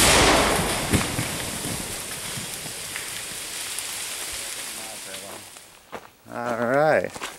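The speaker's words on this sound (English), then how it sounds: "Wow, that was our blast." Explosive rock blasting on a Keene Mountain road: a loud, close burst opens into a long, dense rush of falling rock and debris that slowly thins over about six seconds, after which a voice briefly speaks.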